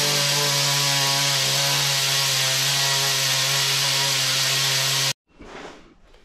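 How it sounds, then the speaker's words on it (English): A vibrator packing sand around a lost foam casting mold for a BSA Bantam cylinder head runs as a loud, steady mechanical drone for about five seconds, then cuts off abruptly, leaving a brief softer rustle. "So I'll just turn the vibrator on and just keep tipping sand in slowly so it all packs in nicely."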